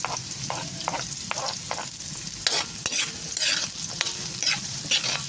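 Onions sizzle and fry in a hot pan alongside garlic while a utensil scrapes and stirs them, with steady crackling and repeated clinks close by.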